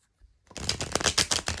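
Tarot cards being shuffled by hand, a dense run of crisp riffling and papery flicks after a short quiet start, close and fairly loud with no talking.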